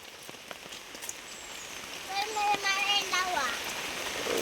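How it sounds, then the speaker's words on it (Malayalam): Rain falls on a wet morning outdoors, a steady hiss of drops on surfaces that grows louder partway through, with faint chirps and brief sounds in the background. "അങ്ങനെ വീണ്ടും മഴ തുടങ്ങി"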